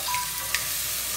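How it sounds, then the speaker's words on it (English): Curry liver frying in a pan with green seasoning, a steady close hiss of sizzling that runs throughout with one brief stir-like click partway. "it's pretty sizzling more and more as you go"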